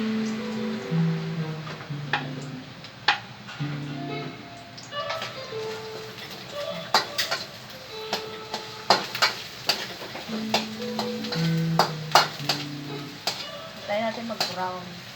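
Garlic frying in hot coconut milk (gata) in a pan for a squash and long bean dish, a steady sizzle under scraping stirs and sharp utensil clinks against the pan, with speech heard at moments.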